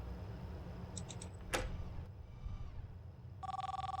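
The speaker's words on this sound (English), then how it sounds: "Okay, there's a phone call." A telephone in the horror game PopGoes rings in short electronic bursts, with a single sharp click partway through, then a louder, steadier trilling ring toward the end, all against a low background hum.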